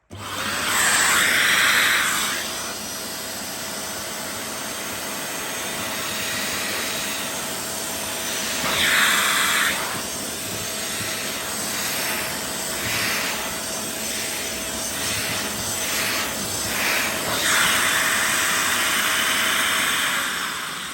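A Shark Stratos vacuum cleaner runs continuously with a steady whine and airy hiss, swelling louder in several bursts as it works through hair, with no talking.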